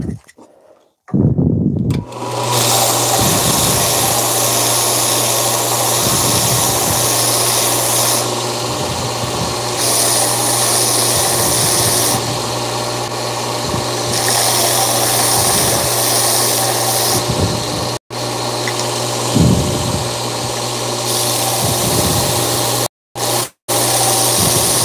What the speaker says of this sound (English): Let me sand it just a little bit.